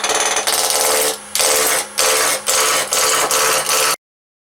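A wood lathe spins an egg blank at about 1,000 RPM while a turning tool nibbles at it, a loud, steady, rough cutting roar broken by short regular pauses, close and alone before cutting off.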